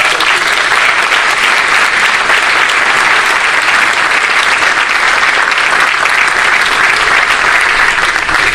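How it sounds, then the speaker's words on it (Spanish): A crowd at a book presentation on a century of trade union struggle breaks into loud, dense applause that stays full and steady for over eight seconds without a pause. "Un aplauso."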